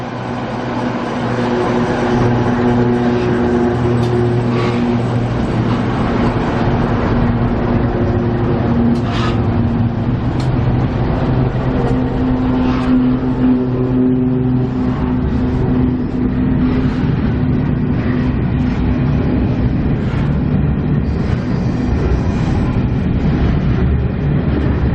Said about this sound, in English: Empty Coyle train.